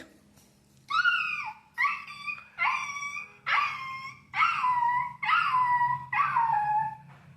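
A person mimics a dog's yelps: about seven high, whining yelps in a steady series, close and fairly loud over a low background hum.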